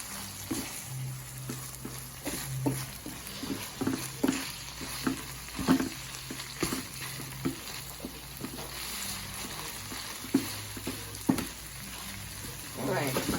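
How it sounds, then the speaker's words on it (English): Seasoned pork fries in a pan for rotini pasta, stirred with steady scraping strokes over a continuous close sizzle, irregular clacks and scrapes repeating throughout without talk. "So I'm just working on the pork right now, making sure that the seasoning gets all over the place here."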